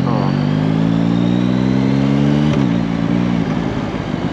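A Yamaha MT-09 with the Y-AMT automated gearbox rides at low revs, its engine droning loud and steady and climbing in pitch, then dipping briefly as a gear shifts before pulling on.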